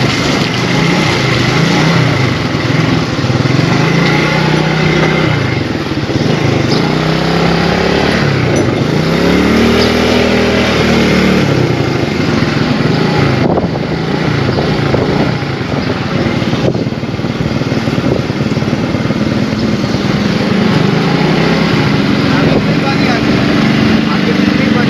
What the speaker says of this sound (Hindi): कहीं मोटरसाइकिल बंद ना हो जाए यार, क्योंकि बहुत देर से जो है ना पानी में चल रही है।